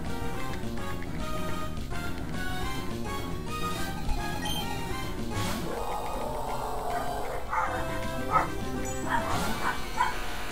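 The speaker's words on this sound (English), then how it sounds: "dogs just went apeshit" Several dogs bark, yip and whimper in quick, continuous bursts close by, layered over electronic Pokémon Emerald game music with no pause across the whole stretch.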